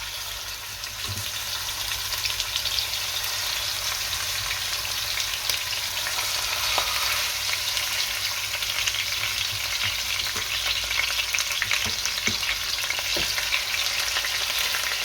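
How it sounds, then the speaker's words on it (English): Beef short ribs sizzle steadily in hot oil, a continuous crackling hiss with occasional pops and light stirring or shifting sounds, no talking. "once the oil gets hot, we're gonna go in with the ribs"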